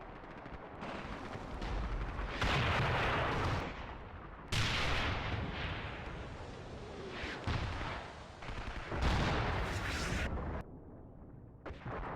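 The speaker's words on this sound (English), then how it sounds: "So we've got some artillery down there." Artillery fire on a World War II Eastern Front battlefield in Graviteam: Fateful Strike, with 88 guns and T-34 tanks, heavy booming blasts and rumbling salvos rolling continuously at a distance, overlapping in dense waves.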